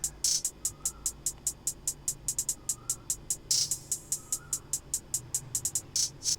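Hi-hats processed through a Looperator preset with reverse and reverb patterns, a fast, rhythmic stream of bright, crisp ticks with occasional swelling reversed washes and faint tonal blips underneath, no voices.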